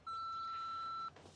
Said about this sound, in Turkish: Sinyal sesinden sonra mesajınızı bırakabilirsiniz.